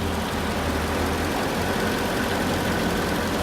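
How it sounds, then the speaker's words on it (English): A 2006 Mercedes-Benz CL55 engine idles steadily and continuously at close range, with a low rumbling hum and no talk over it. "Listening to the engine, I'll stay quiet here for a second."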